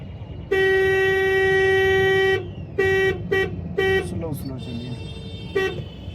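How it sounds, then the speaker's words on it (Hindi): A car horn blares in one long held honk during a driving lesson, then a string of shorter toots, while someone speaks briefly over the traffic. "हॉर्न दीजिए थोड़ा थोड़ा"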